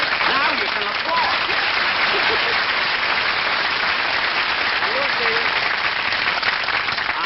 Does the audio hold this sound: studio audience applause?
yes